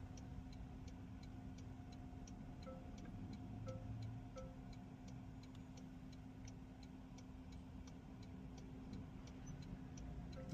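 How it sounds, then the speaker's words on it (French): A car's turn-signal indicator ticks steadily at a quick, even rhythm from inside the cabin during a driving exam route in Bobigny, the clicks sitting over a constant low engine and road hum, with no talking. "Donc là je peux enlever mon clignotant."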